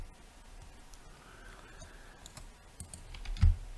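Computer keyboard keys tapped while entering Blender shortcuts, with scattered light clicks and a few quick bursts of typing, close and fairly quiet, ending in a louder thump.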